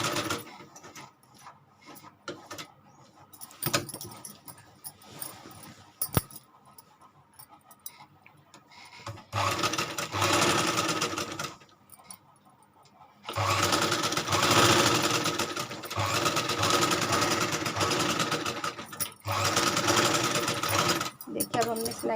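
An electric sewing machine stitching a suit runs in intermittent bursts, whirring steadily for several seconds at a time with pauses between, close by, while a person talks at times.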